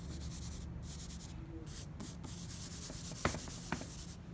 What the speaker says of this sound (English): I'm gonna blend it a little like this.